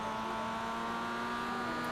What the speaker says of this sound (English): Faster traffic approaching.